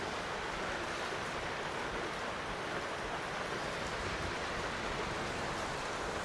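Steady rain pours outdoors in the mountains around a homestay at Mukteshwar, a dense, even hiss that holds at one level throughout with no distinct drops or voices.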